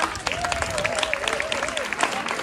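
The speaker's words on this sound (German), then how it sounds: "bitte nochmal einen ganz großen Applaus für Uri-Hana" Audience at a Korean traditional and K-pop concert in Friedrichsdorf, Germany applauding after a dance performance, dense steady clapping from a crowd with a high sustained tone running through it.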